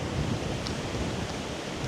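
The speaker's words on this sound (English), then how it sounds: "Can you hear that breeze?" Steady breeze at a wild campsite in the Lake District, a continuous broadband rushing roar with no pauses and no talking.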